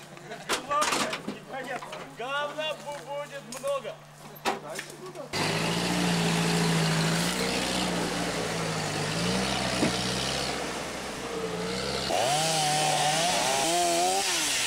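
A chainsaw runs loudly and steadily during the Ladoga Trophy 2002 off-road expedition, its engine pitch wavering for several seconds after a stretch of talking near the start.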